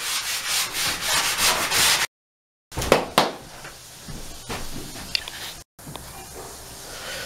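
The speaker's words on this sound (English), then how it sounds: "that's about all sanded down that I can get today" Sandpaper rubs over a patched, feathered-in plaster wall behind a bathroom sink in quick, close scratchy strokes, broken by two short pauses and a few knocks.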